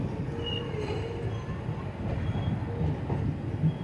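A passenger train in motion, heard from inside as a continuous low rumble of wheels on rails, with faint intermittent clicks and squeals and a steady background drone.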